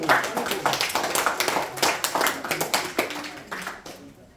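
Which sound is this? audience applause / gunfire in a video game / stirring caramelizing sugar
audience applause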